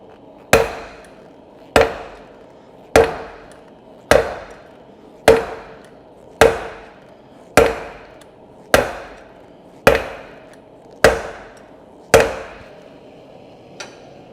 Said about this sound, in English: I can't just keep hammering it.